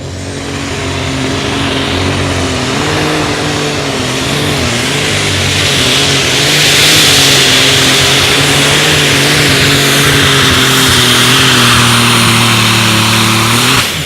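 An outlaw pulling tractor's engine roars during a pull at a Friday night event in Rock Valley, a loud, sustained, droning growl that rises in intensity midway and holds near and powerful to the end.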